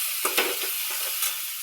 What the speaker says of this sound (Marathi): थोडंसं भाजू द्या मस्त कांदा.